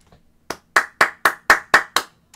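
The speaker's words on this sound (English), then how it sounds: "Applaud yourself." Hands clap seven times in a steady, even rhythm, each clap sharp, loud and close, after a brief quiet start.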